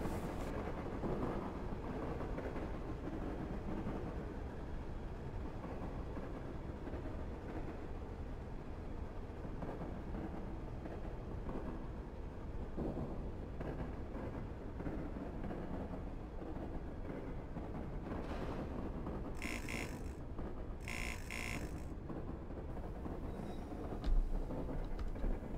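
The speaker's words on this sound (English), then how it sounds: "Having received the right of way from the guard, we can now depart for our first station stop" Class 101 DMU diesel train in Train Simulator pulling away, a steady low rumbling engine drone with rattling underneath and a couple of brief higher hissing bursts near the end.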